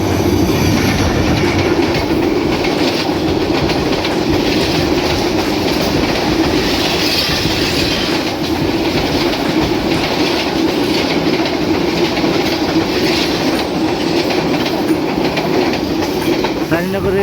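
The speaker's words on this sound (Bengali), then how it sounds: "রানীনগর রেল স্টেশনের 1 নম্বর লাইন দিয়ে থ্রু পাস করে চলে যাচ্ছে 3021 সিরিজের লোকোমোটিভ নিয়ে ঢাকা থেকে ছেড়ে আসা বুড়িমারিগামী 809 আপ বুড়িমারি এক্সপ্রেস" The Dhaka–Burimari 809 Up Burimari Express, hauled by a 3021 series locomotive, runs through Raninagar station on line 1 without stopping. It makes a loud, close, continuous rumble with rhythmic clickety-clack and some wheel squeal.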